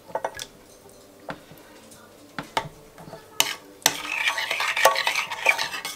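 Dried onion stirred into a blue-cheese cream sauce in a pan, sharp spoon clinks against the pan followed by a thicker, busier stirring sizzle in the second half, no voices.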